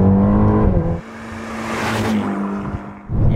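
A 2018 Ferrari Portofino engine in sport mode, revving and downshifting with a loud throaty roar, a brief dip, then rising and falling again close by.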